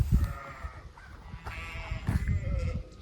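Several sheep bleat close by on a farm where cows also graze, short wavering calls breaking out in a loose cluster over an outdoor background, with no talking.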